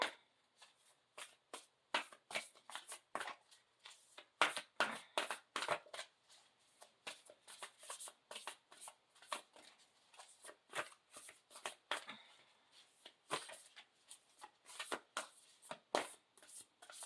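Spirit Animal Oracle cards shuffled by hand, a quick uneven run of crisp riffling flicks and soft slaps repeating for many seconds, close and fairly quiet with no talking.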